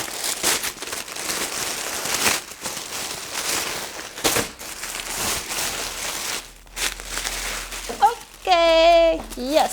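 Stiff plastic packaging holding a pair of jeans crinkles and rustles in bursts as it is handled and opened, with someone talking over much of it.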